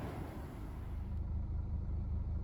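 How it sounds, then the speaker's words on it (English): BMW 520d diesel idling in a workshop after codes were cleared, a low steady engine rumble with a faint regular pulse, fairly quiet and continuous with no talk. "Car is running there right now"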